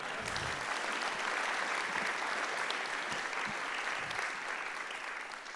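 An audience applauds steadily and continuously from start to finish, a dense, even wash of clapping from a large crowd at a public talk.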